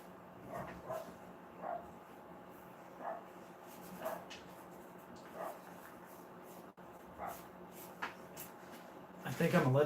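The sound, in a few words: dogs barking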